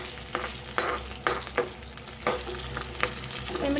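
A snack mixture with spices sizzles and is stirred in a dry pan with no oil, giving soft continuous frying crackle broken by repeated scraping strokes of a spoon, close and fairly loud.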